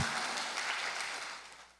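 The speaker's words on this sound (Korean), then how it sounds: "박수 주세요" An audience claps at a church summer retreat: a dense burst of applause that is loud at first and then slowly fades over about two seconds, with no voices over it.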